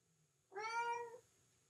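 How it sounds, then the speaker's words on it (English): A pet cat gives one clear, close vocal call lasting about half a second against a quiet room background. "It's my kitty chatting there."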